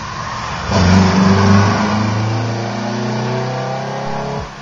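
An Alfa Romeo 33 engine revs up loud and close as the car accelerates, the tone climbing then holding steady through a turn before easing off under braking, with no talk over it.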